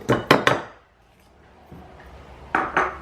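Frozen raspberries tip into a saucepan in bursts of sharp, hard clatters, a quick cluster of rattling hits, a quiet pause, then two more clattering drops near the end.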